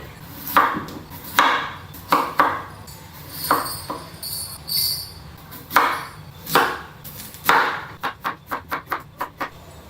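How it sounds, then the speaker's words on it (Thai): Peeled potatoes chopped into pieces with a knife on a cutting board, giving irregular close thuds and knocks that end in a quick run of short, even chops, with no voice over them. "หั่นสักนิดนึงนะคะ เวลาเอาไปนึ่งจะได้นึ่งง่าย"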